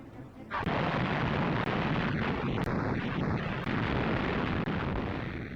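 British guns open an artillery bombardment at El Alamein in 1942, a dense, continuous roaring barrage punctuated by several sharp, heavy bursts, loud and close throughout.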